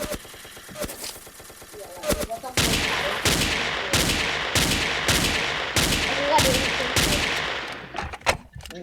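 Gunfire in the video game Ace of Spades, a regular series of about eight loud sharp shots spaced roughly half a second apart, following softer scattered sounds.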